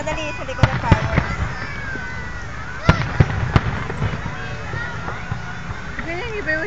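Fireworks over Mall of Asia burst in sharp, loud cracks and booms at irregular intervals, with crackling between them while people talk nearby.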